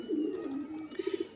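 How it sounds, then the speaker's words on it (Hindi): Dubaj pigeons coo at their loft, a flock of about twenty birds giving soft, continuous low cooing with a quick run of pulsing coos near the end. "ये कबूतर है जी आपके सामने, टोटल 21 कबूतर, लाल दुबाज भी हैं"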